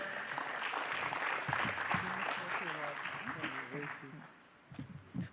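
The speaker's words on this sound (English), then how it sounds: "Let's give him an iconic round of applause." An audience at a women's empowerment event in the nuts and dry fruits trade claps loudly in a sustained burst while a voice speaks over it. The applause fades toward the end.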